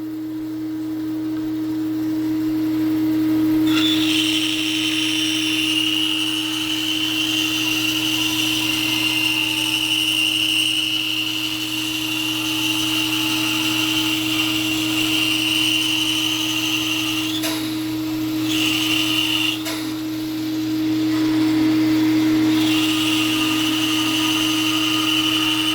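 Band saw ripping a board lengthwise, a loud steady whine with a constant motor hum that runs close and unbroken for the whole cut, the tone dipping briefly twice as the blade loads up in the wood.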